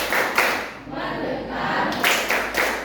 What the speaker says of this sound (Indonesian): 1, 2, 3, tepuk fokus.